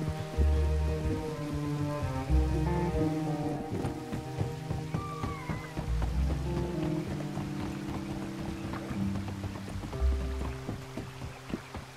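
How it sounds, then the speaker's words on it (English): Steady rainfall patters throughout Red Dead Redemption 2 gameplay, blended with a layered musical score with sustained tones and low rhythmic pulses; no voices. "Man, we got more rain?"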